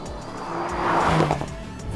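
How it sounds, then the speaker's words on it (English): A Porsche 911 Dakar drives with its 473-horsepower twin-turbo 3-litre flat-six, producing a close, steady engine drone that swells slightly toward the middle, with a brief tyre-like squeal and no voices. "It's a twin-turbo 3-litre flat-six producing 473 brake horsepower"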